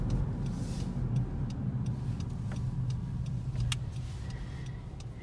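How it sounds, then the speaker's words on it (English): Road traffic rolls steadily past on a busy road with a continuous low engine and tire rumble, heard from inside a moving car. "I know there's a lot of cars today."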